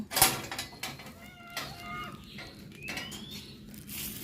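A cat meows several times in a row, close and clear, with rising and falling wavering calls after a short sharp noise at the start.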